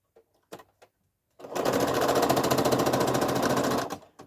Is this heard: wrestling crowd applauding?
no